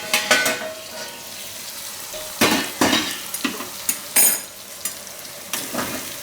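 Brinjal frying in oil in a pan for a Gujarati curd-brinjal curry, a constant close sizzle broken by several loud, scraping stirs of a spoon against the pan in irregular bursts.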